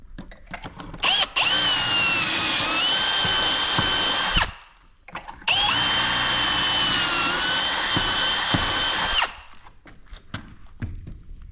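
A power drill driving pocket hole screws into wood siding pieces, two long steady whirring bursts several seconds each, separated by a short pause, loud and close with a few knocks around them.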